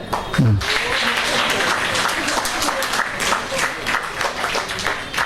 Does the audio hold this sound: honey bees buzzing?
no